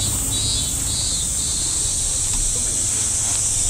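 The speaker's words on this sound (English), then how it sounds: "This is the time when cicada, it's very noisy all across Japan." Cicadas drone loudly in summer on Kuroshima island in Japan, a continuous high, shrill buzz with pulsing swells, alone and close.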